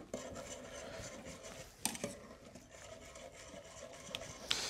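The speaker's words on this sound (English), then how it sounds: "Okay, go ahead and stir." A whisk stirs roux into a cream soup in a pan, giving a steady close scraping and rubbing with occasional sharper clinks against the metal.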